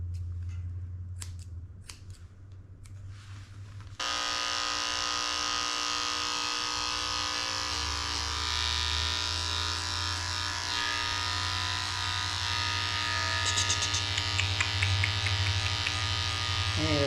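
Electric clippers shave the fur of an elderly 17-year-old Yorkie, a close, steady mechanical buzz that switches on after a few seconds of quieter snipping and hums continuously, with slight changes in pitch as the clippers move.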